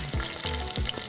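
Mustard seeds hit hot oil for a village-style drumstick gojju, giving a soft, continuous sizzle with a few brief crackling pops and stirring scrapes, fairly quiet and close.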